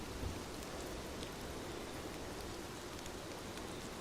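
Steady, fairly faint rain falls in an even broadband hiss with no distinct drops or thunder, continuous throughout with no voices.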